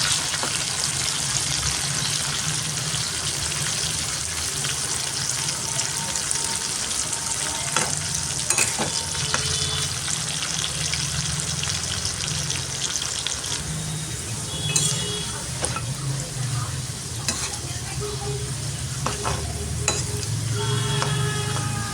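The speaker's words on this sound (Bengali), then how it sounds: "এখন আলুটাকে লাল করে ভেজে নেব।" Potato pieces frying in a pan, browning in oil: a continuous close sizzle with occasional sharp crackles and stirring scrapes, steady for the whole stretch.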